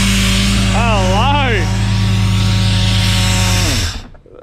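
A supercharged Intech car engine idles loudly and close, a steady tonal drone with a rising and falling whine midway, then winds down and cuts off near the end, with a voice over it.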